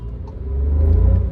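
A VW Virtus 1.0 TSI engine rumbles steadily from inside the moving car, a low, continuous drone that swells slightly as it pulls, with no talking.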